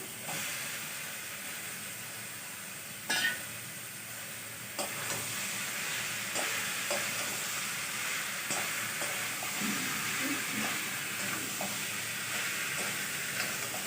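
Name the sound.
stirring taro stolons (loti) frying in a pan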